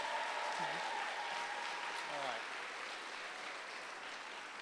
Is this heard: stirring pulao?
no